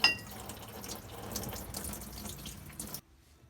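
Transmission fluid pours from a Ram pickup's transmission pan with no drain plug, running as a close, steady liquid splash that stops abruptly near the end.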